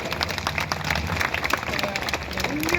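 A crowd at a press event applauds loudly to welcome Pramod Tiwari, a dense, continuous clatter of hands with some voices murmuring underneath.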